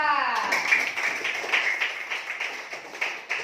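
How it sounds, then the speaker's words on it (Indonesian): Classroom of students clapping for a group after a presentation, a scattered patter of hands that fades unevenly, with voices audible over it. "tepuk tangan untuk kelompok 4"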